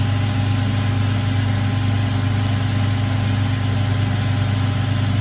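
AD100 engine running steadily under load while driving an alternator, a constant close mechanical drone with a strong low hum and even vibration throughout, with no talking.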